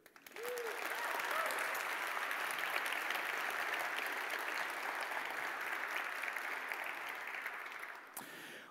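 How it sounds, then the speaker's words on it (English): At a CSS conference talk, the audience gives a sustained round of applause. It swells quickly from quiet into a thick, even wash of many hands, holds for several seconds, then breaks off abruptly near the end. "can you please give a big round of applause for the organizers and the whole team"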